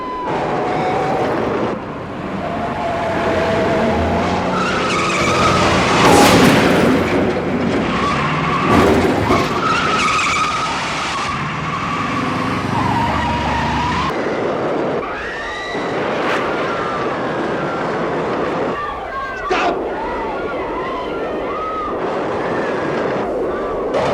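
Car chase from the film The French Connection, with loud tyre skids and revving engines over dramatic music, a long sustained screech in the middle and brief voices later.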